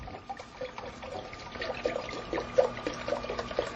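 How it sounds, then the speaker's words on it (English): Vanilla almond milk pours into a container for a two-serving recipe, a soft, close trickle with small splashy gurgles across a few seconds. "I'm actually going to put in about 2 cups of almond milk"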